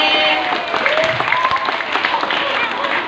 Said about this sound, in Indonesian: berikan tepuk tangan buat Bu Guru dulu